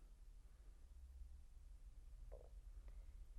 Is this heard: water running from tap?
no